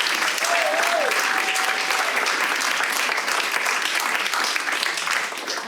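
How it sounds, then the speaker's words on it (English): Audience applause for a wealth-building panel, a steady, dense round of clapping that holds for several seconds and tapers slightly at the end, with a brief tonal squeal early on. "Let's give our panelists a big round of applause."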